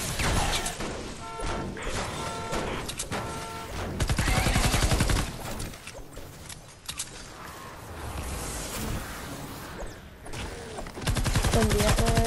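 Gunfire and bashing in Fortnite Save the World, dense bursts of shots mixed with mechanical clanks and crashes, loud and continuous with brief lulls.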